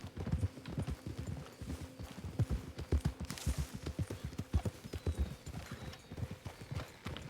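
Horse hooves clip-clop in a steady walking rhythm while riders move along, close and fairly loud, with faint background noise.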